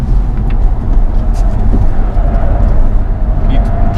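A 2017 Audi A4 45 TFSI quattro cornering in dynamic drive mode, heard from inside as a steady broadband road and engine drone that holds constant throughout, with no talk over it.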